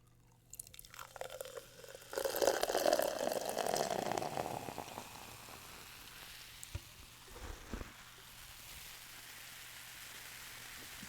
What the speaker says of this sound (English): Let's pour some Diet Coke and get going.